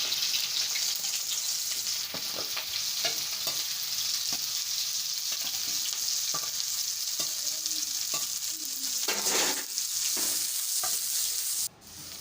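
Onion and green chilli fry in hot oil in a wok for spicy street-style Maggi masala noodles, a dense close sizzle running throughout with repeated clinks and scrapes of stirring.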